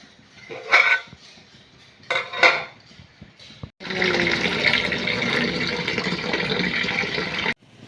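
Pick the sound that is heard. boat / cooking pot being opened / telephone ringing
cooking pot being opened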